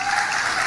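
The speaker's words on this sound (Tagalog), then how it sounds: "talaga, may mga palakpak pa yan." Applause from a church congregation during a sermon, a steady dense patter of clapping that swells slightly at the end, with no talking over it.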